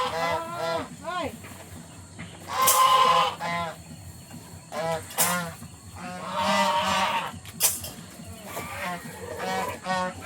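Several farm geese honk loudly in repeated bursts, close by, with scattered quieter calls and faint Filipino voices between them.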